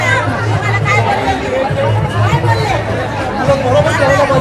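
A dense crowd chatters continuously at a Ram Navami pilgrimage procession on foot from Kopargaon to Shirdi, many voices blending into a steady, loud babble.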